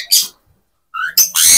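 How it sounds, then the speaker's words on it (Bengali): A pair of albino cockatiels give loud, close, harsh squawking calls, one short burst followed by a pause and then a rapid run of shrill cries. "এক জোড়া এলবিনো কোকাটেল"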